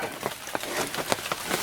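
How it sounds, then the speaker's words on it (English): Raindrops patter on the roof of a small van at an Appalachian deer camp, a steady faint hiss broken by scattered light taps. "I suppose you can hear some of the raindrops falling on the little van here."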